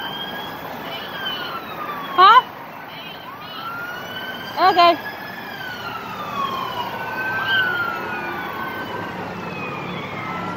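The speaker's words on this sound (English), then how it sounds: "Here comes the ambulance." An ambulance siren wails as it approaches at the scene of a car accident, its rising and falling tone carrying over street noise, with two short louder bursts and brief talk nearby.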